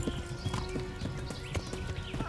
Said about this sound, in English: Oh, come on, horse.